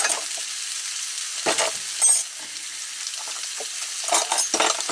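Pork and mushrooms fry in a pan on a small van stove, a soft steady sizzle broken by several sharp bursts of stirring and scraping. No one speaks.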